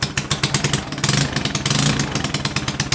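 Honda Ruckus scooter with a fabricated rear frame and no exhaust gasket, revving loudly and close up in a run of quick, rhythmic throttle blips, with two longer sustained revs in the middle.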